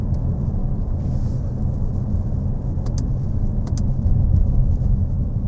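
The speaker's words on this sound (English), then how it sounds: "Oh, and it started back up." A Mercedes AMG engine that has just restarted runs as a loud, steady low rumble close by, with a slight swell near the end and no talking.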